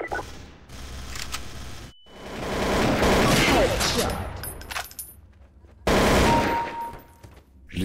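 Bursts of rapid gunfire in Counter-Strike: Source, loud and close, with booming shots and brief pauses between volleys.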